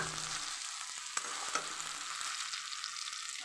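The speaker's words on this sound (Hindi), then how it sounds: "अब इसमें डाल लेते हैं गोभी जो फ्राई कर लेते" Cauliflower fries in a hot pan with tomato, giving a steady, close hiss and sizzle punctuated by a couple of sharp clicks from stirring, with no voices.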